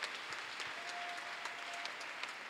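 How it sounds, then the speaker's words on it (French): A church congregation at a sermon breaks into applause and cheers, a continuous patter of many clapping hands heard from a distance, fairly faint, with scattered voices mixed in. "Si tu le crois, acclame Jésus"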